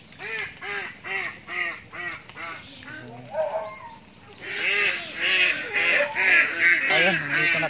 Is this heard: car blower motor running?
no